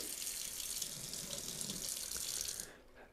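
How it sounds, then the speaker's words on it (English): Hot water runs steadily from an RV kitchen faucet into the sink, a close, continuous hiss that stops abruptly near the end, leaving a quiet tail. "Starting in the kitchen, we'll turn the hot on, let it run for a little bit, make sure hot water comes out"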